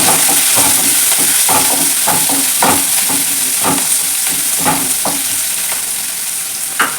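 Green chili, onion and curry leaves fry in hot oil for upma, with a loud steady sizzle and frequent sharp stirring clicks of a spoon against the pan.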